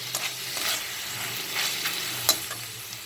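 Moderate sizzle of minced chicken frying in a pan with occasional scraping stirs and light clicks, steady and fairly close.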